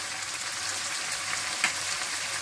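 Chicken korma sautéing in a pan with ground dry chili seeds, a steady soft sizzle and crackle heard up close, with one brief louder stirring scrape partway through and no voices.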